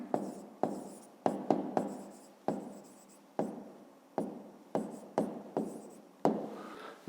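Pen or pencil writing a maths answer by hand on paper, short scratchy strokes in quick bursts with brief pauses, close and fairly quiet, no talking.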